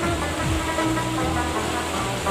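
Water from a spring at the foot of a hill beneath a mosque flows with a steady, continuous rushing wash, close and even throughout, with no voices.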